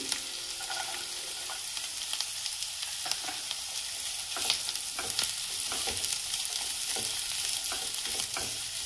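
Vegetables and carrots stir-fried on a high gas flame for veg manchow soup, a steady crackling sizzle with scraping stirs and small clatters throughout, close and alone with no talking.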